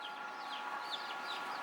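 Chickens in the Cook Islands cluck softly, a few short chirpy calls rising over a faint outdoor background, distant and quiet.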